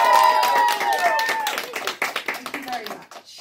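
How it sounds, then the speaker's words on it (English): Children at Radipole school cheer and clap together, a busy burst of hand claps and voices that thins into scattered individual claps toward the end. "I'd like the children to give a big cheer and a big clap as well."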